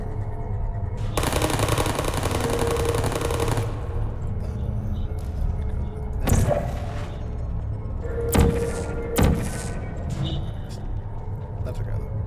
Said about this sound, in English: It seems to fire a pellet just before moving each time.